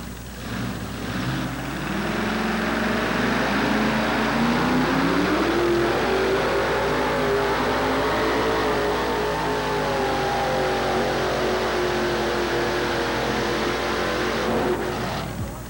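Supercharged pulling truck engine roaring down the track at a 1987 truck pull in Louisville, Kentucky, building to a loud sustained howl with rising pitch and holding for about fifteen seconds before dropping away, no talk.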